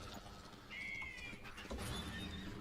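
A horse in the video game Far Far West gives a single whinny of about half a second amid steady game background noise.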